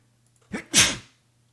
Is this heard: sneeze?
yes